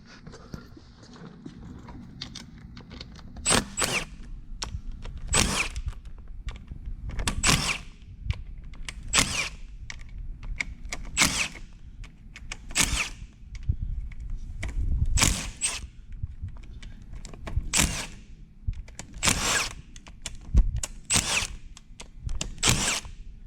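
Short bursts of a power tool loosen the 8mm clutch cover bolts on a 1999–2007 Suzuki Hayabusa, about a dozen sharp whirring pulls spaced a second or two apart, close and loud over a low shop hum.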